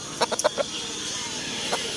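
Young roosters clucking, a quick burst of several short clucks near the start, then a single faint cluck later over steady background noise.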